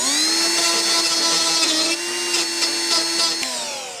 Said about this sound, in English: I'm just gonna quickly clean up all the burrs with this deburring tool